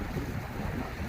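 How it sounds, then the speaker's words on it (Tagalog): Steady roar of seaside waves and wind at a beach in Saudi Arabia's Eastern Province, continuous and fairly loud with buffeting wind noise on the microphone and no voices. "nandito tayo sa tabing dagat."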